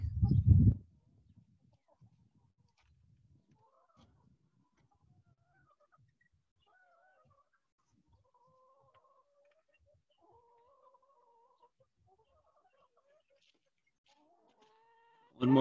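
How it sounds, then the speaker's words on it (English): Backyard chickens at a community farm make quiet, intermittent clucks and soft warbling calls, faint and somewhat distant, after a brief loud handling bump at the start. "So these are our chickens."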